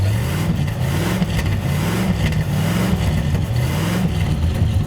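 A front-wheel-drive Cadillac with a new battery runs after a quick start, its engine holding a loud, steady rumble with gentle rises and falls in pitch, close by and alone.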